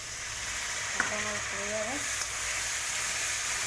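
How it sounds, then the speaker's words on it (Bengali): Spices such as turmeric and cumin fry in oil with a steady hiss and sizzle after water is added, heard through the whole stretch while a person briefly speaks. "এবার মশলাগুলো তেল ছেড়ে দিয়েছে, একটু হালকা করে জল দেবো"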